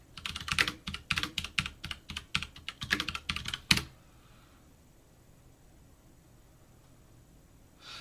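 Rapid close typing on a computer keyboard, a dense run of clicks for about four seconds ending in a sharp keystroke, then near silence with faint room hiss.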